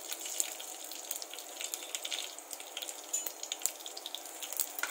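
Cloves, cinnamon, cardamom and other whole spices fry in hot oil, a faint, soft steady hiss with light crackles, quiet and unaccompanied by speech.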